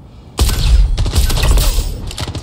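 Enemy gunfire in Star Citizen bursts in suddenly as a loud, dense fusillade of rapid shots and heavy impacts, continuing for about two seconds at close range with no voices.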